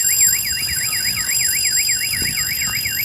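A warning signal at the Imanta railway level crossing wails in a rapid, regular rising-and-falling electronic tone, loud and continuous, over low street rumble.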